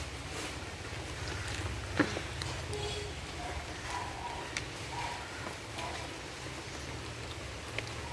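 Rain falling on garden plants and pots on a rainy day: a soft, continuous wash of patter with occasional louder drops, a low rumble beneath, steady throughout.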